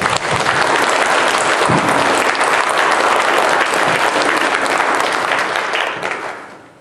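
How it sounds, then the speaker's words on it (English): Loud, enthusiastic audience applause for Charlie after a Chanukah play, a thick roar of clapping hands that holds steady for several seconds before tapering off at the end. "So once again, can we give him an applause?"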